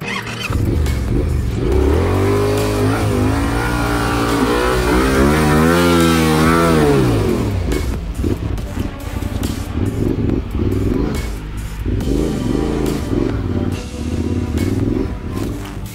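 Motorcycle engines rev and labor on a muddy off-road trail during a tough group ride, one bike nearly tipping over, with a steady loud drone and rising, wavering pitch sweeps as the throttle opens and eases.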